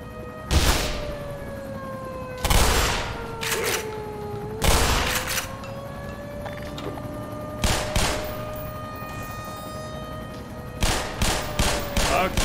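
Gunfire in Black Mesa, fired in several sharp loud bursts separated by pauses, with a steady wavering alarm-like tone running beneath the shots.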